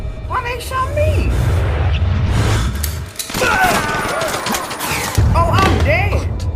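Gunshots in the horror game Outlast: sharp cracks and thuds scattered among chaotic game noise, with a voice speaking over much of it.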